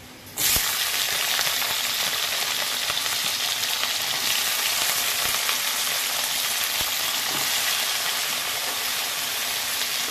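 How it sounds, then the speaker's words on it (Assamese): Eggplant and potato frying together in a pan: a loud, dense sizzle that starts abruptly after a brief quiet moment and holds steady, with occasional clicks of stirring. "এইপিনে মই আপোনাৰ বাংনা আৰু আলু ভাজিম"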